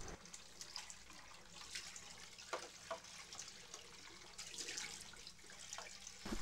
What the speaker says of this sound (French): le récipient est rincé et que le robinet coule pendant plus de 20 secondes